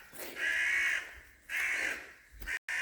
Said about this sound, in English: these birds are not happy.